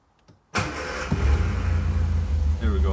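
A Morris Minor 1000 vintage car engine cranks and catches after a short quiet lead-in, then settles into a loud, steady close-up running idle for the rest of the clip.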